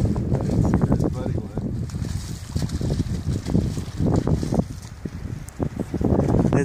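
Strong gusty wind buffets the microphone outdoors at an African water hole, rumbling in uneven bursts while people talk quietly over it.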